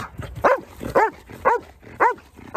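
A Malinois dog barks repeatedly during fire brigade search-and-rescue training, four loud, close barks spaced about half a second apart with no talking.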